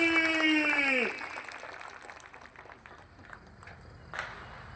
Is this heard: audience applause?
yes